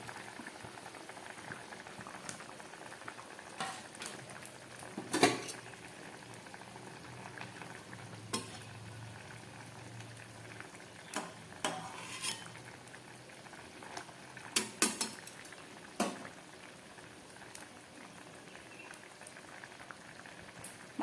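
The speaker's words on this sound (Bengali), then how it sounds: "মাছের ঝোলটা একদম ফুটে উঠেছে, আলু পটলও হাফ সিদ্ধ হয়ে গেছে।" Fish curry with potatoes and pointed gourd boils steadily in a pot, a continuous bubbling simmer with a few sharper clinks and pops rising above it, close by and with no talking.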